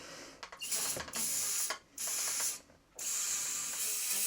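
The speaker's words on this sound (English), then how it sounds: "Spray the solvent into the barrels" Several loud aerosol solvent spray bursts hiss in sequence into shotgun barrels, with brief pauses between them and a faint mechanical click near the start.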